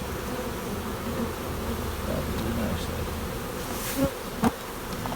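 Dense, steady buzzing of many honeybees close by at an open hive during queen rearing, continuous drone with a couple of brief sharper bumps and a voice speaking softly beneath.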